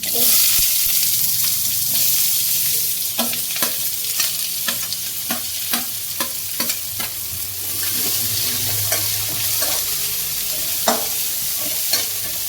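Oil sizzles steadily as onions, green chillies and mustard seeds fry in a pan, with a spoon tapping and scraping the pan at irregular intervals.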